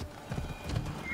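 Horse hooves clip-clopping in Assassin's Creed Odyssey gameplay, with a short whinny, all close and steady over about a second.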